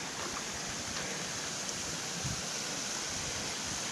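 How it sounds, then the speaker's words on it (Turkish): A waterfall heard from the top of the falls, a steady broad rushing roar that stays loud and unbroken throughout with no voices. "Şelalenin tam üstündeyiz."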